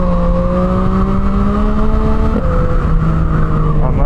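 A CFMOTO 675SR motorcycle engine revs loud and close, its steady harmonic drone holding then dipping briefly before climbing again, all under strong wind rush with no talking.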